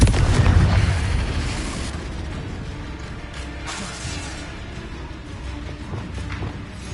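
In the Hogwarts Legacy video game, a Confringo blasting spell detonates with a loud, booming explosion up front, then a crackling, rumbling tail with scattered debris pops that slowly fades.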